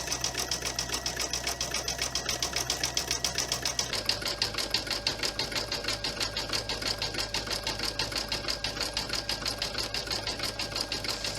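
Sewing machine running a satin stitch on a wallet, a fast steady mechanical rattle with a rapid needle beat that shifts slightly in pitch partway through, close and continuous.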